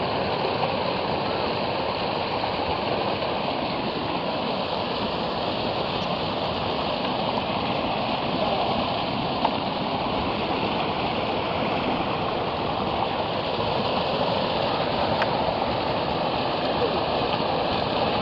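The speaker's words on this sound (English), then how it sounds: "Gotta keep a flow of water going in there" Spring water flows and splashes continuously in a steady, broadband rush, close by and unbroken throughout.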